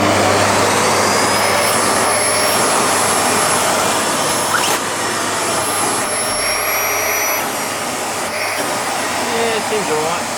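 A Miele S7510 upright vacuum cleaner runs with a full bag, a loud, continuous close-up roar and whine that holds steady throughout.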